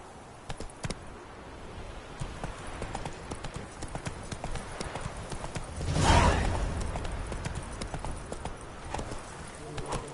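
Horse hooves clip-clopping in The Witcher 3 video game, a brisk continuous rhythm close by, with a brief whooshing swell midway and a voice speaking briefly over it.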